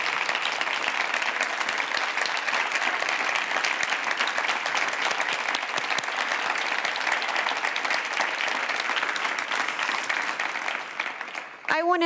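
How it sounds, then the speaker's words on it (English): Sustained, dense audience applause at a closing plenary of a global forum in Barcelona, honouring a spoken word poet; steady and full for about eleven seconds before tapering, with a few voices briefly audible near the end. "Yes, keep clapping for her"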